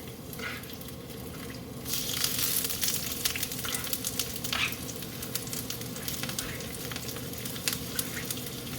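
Potatoes frying in a pan and being stirred, a continuous close sizzle with scraping stir strokes and brief louder bursts of spatter, no one talking.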